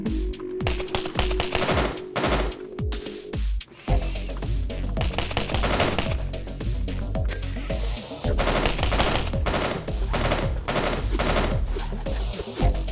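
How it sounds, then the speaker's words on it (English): Rapid, loud gunfire from the video game s&box, including a shotgun, fills the scene in dense bursts and volleys, with a brief pause partway through before the shooting resumes. "Damn it, that shotgun's nasty."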